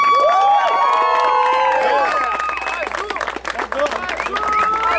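Loud applause and cheering from a concert crowd for a performer, with whoops and shouts over steady clapping that thins slightly midway before building again.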